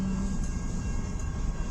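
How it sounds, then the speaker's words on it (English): A long CN freight train carrying lumber rolls past, producing a steady low rumble and clatter of railcars, loud and continuous, with no voices. "That's a long train."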